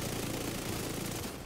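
Continuous automatic gunfire in The Division 2 during an Incursion, a dense, loud burst lasting the whole short moment before tapering slightly at the end.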